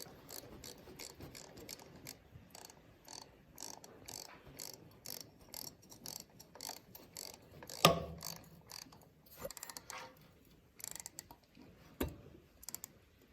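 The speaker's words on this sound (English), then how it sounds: "the ratchet's working like a normal ratchet" A ratchet turns a socket on a bolt of an International b250/bd144 thermostat housing, giving close, quiet runs of rapid clicking in repeated strokes with brief pauses and a louder clunk partway through.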